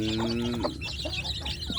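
A village mother hen clucks close by in a short run of soft, broken calls, faintly layered over a low background.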